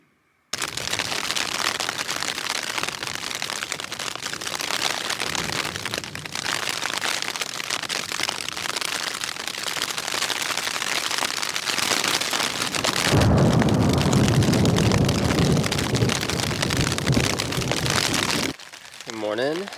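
Rain drums steadily on a tent in the woods during stormy weather, a dense close patter that swells heavier for several seconds near the end before stopping abruptly.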